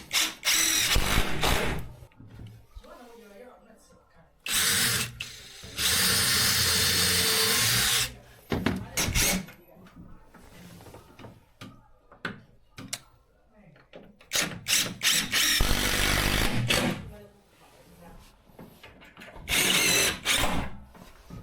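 Power drill driving 6 cm self-tapping screws through bed slats into the side rail of a solid-wood bunk bed, heard as several loud sustained whirring bursts of a few seconds each, separated by pauses and short clunks.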